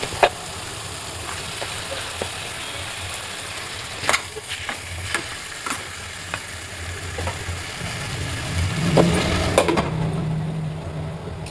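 Mutton pieces frying in a hot pan for a mutton curry, a steady broadband sizzle with scattered crackles and pops and a louder burst of stirring near the end, no talk.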